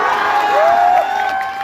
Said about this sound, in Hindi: भाई ये ताली वाली बजाना बंद कर दो